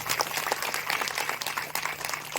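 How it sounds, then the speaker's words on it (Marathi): An audience at a Marathi kirtan gives steady, moderately loud applause for Vikram Maharaj Jadhav, a continuous patter of many hands with a faint low hum beneath. "एकदा गोड टाळ्या वाजवा कडे तुम्ही"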